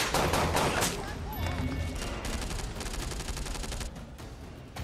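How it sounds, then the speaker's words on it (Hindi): Gunfire during an encounter with militants in a cave in Tral, south Kashmir: rapid bursts of shots rattle densely at first, then continue as steady, slightly softer volleys with echoing reports. "गोलियां दोनों तरफ से चल रही थी।"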